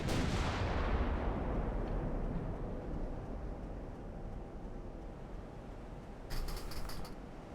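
A heavy naval gun salvo from warships in Ultimate Admiral: Dreadnoughts booms at the start and rolls into a long, fading rumble, followed near the end by a sharper, brief metallic clatter.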